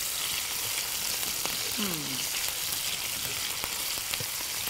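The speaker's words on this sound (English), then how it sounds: "So she just took part of the chicken and diced it up, and she's just frying it down." Diced chicken breast fries in a pan with a steady, dense sizzle and crackle, while faint voices sound briefly in the background.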